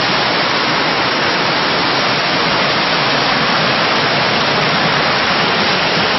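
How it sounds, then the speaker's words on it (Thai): Sai Rung waterfall in lush old-growth forest roars steadily, a dense, continuous wash of falling water heard up close, loud and uniform from start to finish with no voices. "นี่คือน้ำตกสายลุงนะครับ"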